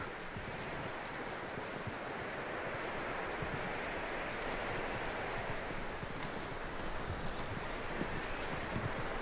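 A horse's hooves clip-clop steadily in Red Dead Redemption 2, a continuous rhythmic trot heard alone over a rushing wind-like background.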